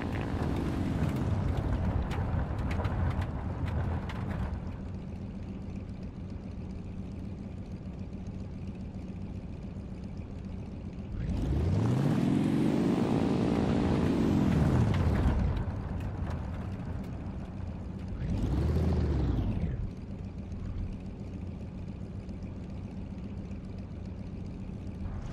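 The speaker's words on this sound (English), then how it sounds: "as you are accelerating along the runway, your plane will yaw. The plane has started accelerating." A propeller warplane in War Thunder speeds up along a runway, its engine droning steadily and swelling twice in loud rising-and-falling surges over a constant background hum.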